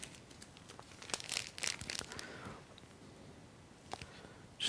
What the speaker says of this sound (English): Just cut the corner off the packet and then use my scissors to bring it out.